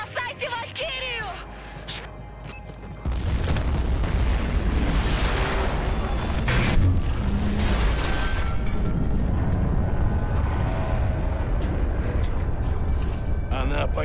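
Ship exploding in a Battlefield 4 video game cutscene, Russian-dubbed: a sudden heavy blast rolls into a long, dense rumbling roar that stays loud for over ten seconds. Urgent shouted Russian dialogue comes just before it.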